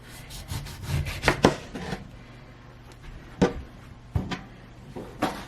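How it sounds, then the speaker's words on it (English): A knife slices through fruit on a cutting board in a home kitchen, giving irregular scraping cuts and firm thumps that come close together, then sparser, with no talking. "you're just going to cut small slices of all your fruits"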